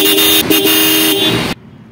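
A loud, steady motorcycle dual horn on a Yamaha blares for about a second and a half, with a brief dip midway, then cuts off abruptly into quiet.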